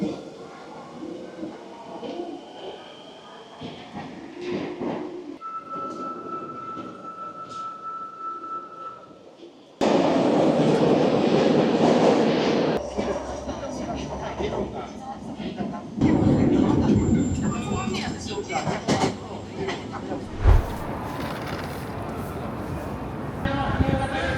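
Osaka subway train noise with rumbling cars, a sustained whine and a loud roaring stretch, while people talk intermittently over the din.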